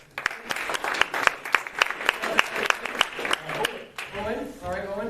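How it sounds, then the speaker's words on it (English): Audience applause at an annual magic show, a burst of sharp claps that grows into a lively round and then thins out, with a voice speaking over the fading end. "Let's give our friend a round of applause."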